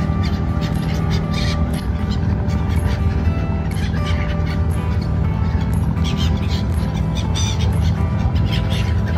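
Birds call repeatedly beside Dubai Creek at sunset, sharp caws and chirps scattered over a loud, steady waterside din with no voices.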